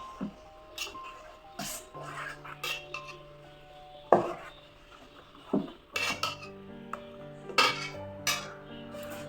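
Instant Malabar dosa batter with coconut and fennel being mixed in a bowl, heard as irregular spoon clinks and scraping knocks against the vessel, close and fairly loud, with no talk.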